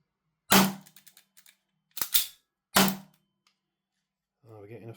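A CTM FUKU-2 AAP-01 airsoft pistol low on gas fires a few sharp, loud snapping shots with gaps between, the last ones sounding weaker, followed by someone speaking briefly at the end.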